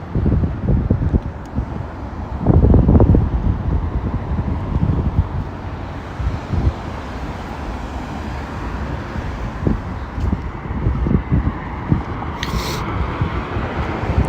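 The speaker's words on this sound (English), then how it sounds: "it's quite windy today" Gusty wind buffets the microphone outdoors in a continuous low rumble, with occasional stronger gusts and faint distant traffic.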